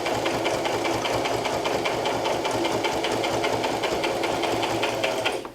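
A sewing machine stitches a beginner rag quilt in a continuous loud, rhythmic chatter that holds steady before stopping at the end.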